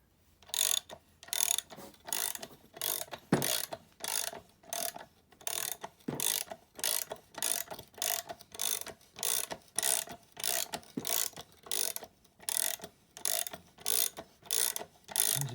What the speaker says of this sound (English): now all I need to do is to tighten this up and it should pull off.